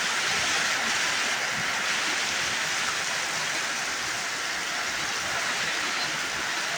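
Heavy rain pours down steadily in Taytay, Philippines, a dense and constant hiss that fills the whole stretch with no pauses.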